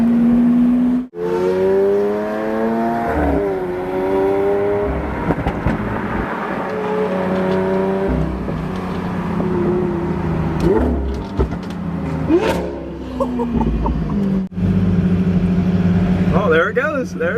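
A Lamborghini Aventador V12 revs repeatedly, its engine rising and falling in several loud, close bursts while people talk excitedly over and between the revs.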